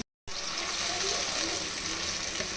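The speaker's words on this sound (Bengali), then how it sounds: "এখন এর মধ্যে দিয়ে দিব সামান্য পানি।" A little water poured into a pan of lightly fried chopped onions, a continuous close gushing pour that fills the short stretch after a brief silence.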